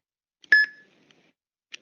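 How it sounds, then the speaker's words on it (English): A single short electronic beep rings out clearly, followed by a couple of faint clicks in near silence. "Please say it after beep sound."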